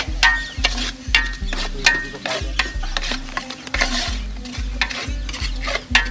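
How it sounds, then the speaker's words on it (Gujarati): A spoon scrapes and clanks rhythmically against a pan as garam masala is stirred into a frying dish, with repeated knocks over a bed of sizzling. "હવે નાખશું થોડો ગરમ મસાલો મિક્સ કરી દેવું આપણે"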